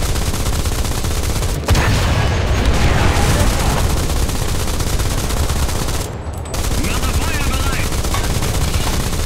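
Cannon and machine gun fire in the video game War Thunder form a dense, continuous roar of rapid shots and booms. The sound is loud and close, with brief breaks, while people talk over it.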